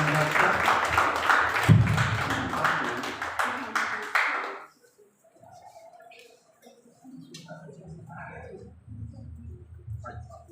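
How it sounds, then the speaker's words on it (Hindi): An audience applauds to welcome Sonam Jha on stage at a Hindi literary gathering. The clapping is loud and dense for about four seconds, then stops abruptly, leaving quiet room sound. "एक बार आप लोग जोरदार तालियों से स्वागत करें इनका, सोनम झा का।"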